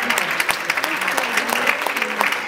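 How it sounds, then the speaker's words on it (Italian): A crowd claps for young children after a dance performance, with brisk, uneven clapping and a few sharp individual claps standing out near the listener. "applauso."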